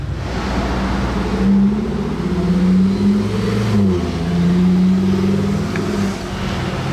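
An Audi RS Q8 revving loud and close, its engine note rising and falling through several throttle blips on a Monaco street, with no one talking.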